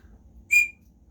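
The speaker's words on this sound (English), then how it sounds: "Maybe you have to blow the whistle while you light it" A single short, sharp blast from a small plastic whistle out of a survival tool kit, close and fairly loud against quiet background noise.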